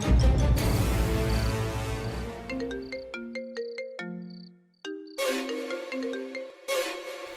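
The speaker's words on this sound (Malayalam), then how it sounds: "ഒന്ന് ഫോൺ ചെയ്ത് ചോദിച്ചു കളയാം." A phone ringtone plays in a melodic electronic pattern of repeated tones while a call is placed, clear and close with short pauses between phrases.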